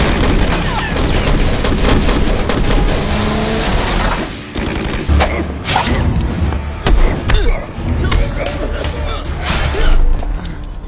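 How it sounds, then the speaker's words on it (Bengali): Gunfire in an action film scene as army soldiers shoot wildly, dense loud cracks and booming thuds in rapid bursts, mixed with other effects and voices throughout. "বাহিরে গোলাগুলির আওয়াজ শুনে লিও বেরিয়ে আসে এবং গোলাগুলিতে যোগ দেয়।"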